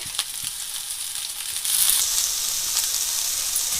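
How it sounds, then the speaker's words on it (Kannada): Bitter gourd frying in oil for a palya makes a steady, close sizzle that grows a little louder partway through, with no voices. "ಈಗ ಹಾಗಲಕಾಯಿ ಹಾಕೊಂಡಿದ್ದೀನಿ ಎಣ್ಣೆ ಹಾಕೊಂಡು ಚೆನ್ನಾಗಿ ಫ್ರೈ ಮಾಡ್ಕೊಳ್ಳೋಣ"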